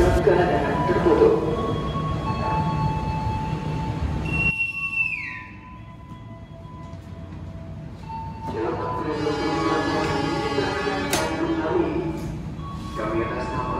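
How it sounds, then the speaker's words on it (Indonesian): At an Indonesian railway station platform, the Walahar train bound for Purwakarta gives off a steady mechanical rumble and hum, with a brief high gliding squeal or whistle partway through before the noise builds again. "Ini di jalur 5 ada kereta api Walahar tujuan Purwakarta."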